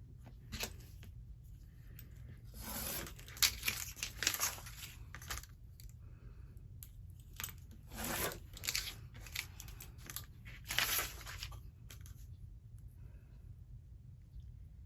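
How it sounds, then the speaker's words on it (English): Paper torn along the edge of a ruler while cutting out a drafted pattern for dog boots, heard as several short, crisp ripping bursts separated by quiet pauses, close and alone. "We can use the ruler to cut this out since we don't have scissors."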